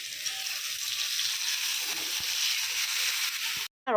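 Vegetables sauté in leftover prawn-frying oil, giving a steady sizzling hiss with faint stirring scrapes, cut off by a brief pause before a short sharp noise at the end.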